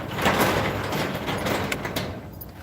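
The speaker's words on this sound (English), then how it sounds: "if I close the garage door" A garage door closing, a continuous rolling, rumbling slide that runs steadily for a few seconds at moderate loudness, with faint rattles on top.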